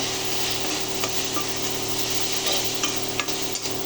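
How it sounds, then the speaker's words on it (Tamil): Spices and biryani masala sautéing in a pan, giving a continuous close sizzle with a few light scraping stirs and occasional soft clicks, and no voices. "இது பிரியாணி மசாலா கொண்டு வச்சுருக்கேன், அதை போட்டுருங்க. நல்லா வதக்குங்க"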